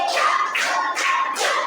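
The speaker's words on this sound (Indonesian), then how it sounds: "Kita akan melaksanakan atau melakukan tepuk fokus ya." Children in a classroom clap in a focus clapping routine, giving four loud, evenly spaced bursts of many hands striking together.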